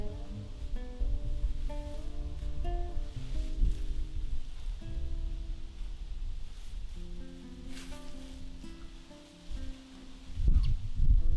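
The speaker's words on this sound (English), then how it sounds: "Today the wind is strong, so I have to press the leaves down into the bucket so they don't blow away." Strong autumn wind rustles leaves outdoors, a steady loud rustling and rushing that dips briefly and then surges again, with low tonal hums running beneath it.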